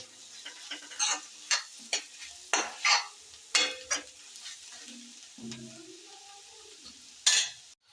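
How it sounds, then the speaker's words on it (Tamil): A spatula repeatedly scrapes and stirs an egg noodle mixture in a frying pan, making quick, close, rhythmic strokes over a soft sizzle, with a longer gap late on. "இப்போ நல்லா மிக்ஸ் பண்ணி விட்டுக்கலாம்"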